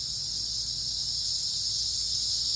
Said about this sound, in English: Those are cicadas.